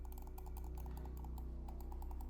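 Side buttons of an Xtrfy M8 wireless gaming mouse clicking in a quick, even series of small, close mechanical clicks, with a steady low hum under them and no talk.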